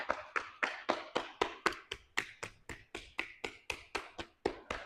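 Front of a fist knocking on the legs during a myofascial release yoga practice: a steady series of about seventeen crisp, close thumps, evenly spaced at roughly three or four per second, with no talk over them.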